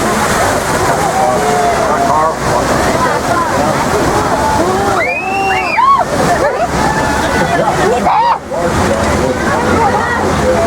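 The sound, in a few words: flood water effect rushing across floor on studio tour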